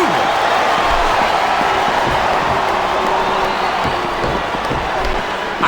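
A steady, dense roar of arena crowd noise rolls on without a break from the WWE SmackDown vs Raw 2007 video game, a loud wash of cheering with faint whoops and thuds underneath.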